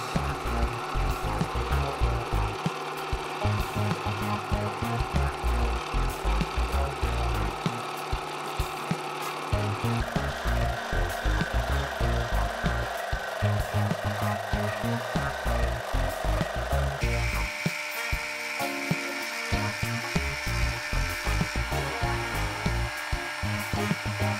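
A lathe runs continuously while a tool scrapes and cuts a spinning metal piece about thirty millimetres across, a steady rhythmic grinding that shifts in tone a couple of times.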